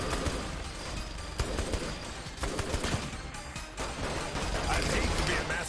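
Rapid gunfire in the shooting game SR3, a dense, continuous rattle of shots and mechanical clatter throughout, with a commentator's voice running underneath.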